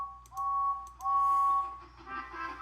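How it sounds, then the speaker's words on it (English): A steam train whistle from an animated Thomas and Friends story sounds two clear, sustained blasts, the second longer, then fades into quiet background. "Then Thomas heard a whistle."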